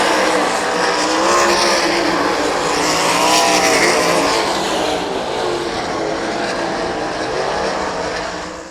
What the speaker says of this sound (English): Carson McCall going to win heat race number 3